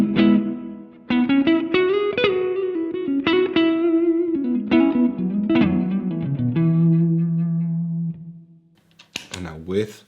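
Electric guitar played straight into an amp with no compressor, a run of plucked notes and chords with natural attack and decay, ringing out alone for several seconds before a short noisy burst at the end.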